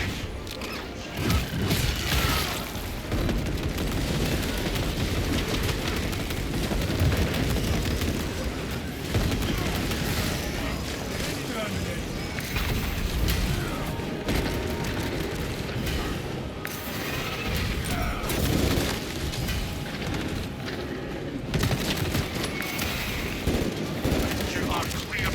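A heavy bolt rifle blazes away at Tyranid swarms in Space Marine 2, a dense, unbroken roar of automatic gunfire mixed with crashing impacts and clanking machinery, sustained and loud throughout.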